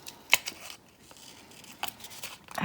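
Scissors snip through a paper bookmark in a few quick, soft cuts, close and faint, with a sharper snip at the start and a couple more after it.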